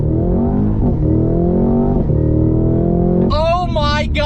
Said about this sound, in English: 0 to 60 in the CT5-V Blackwing.